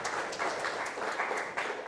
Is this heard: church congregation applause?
yes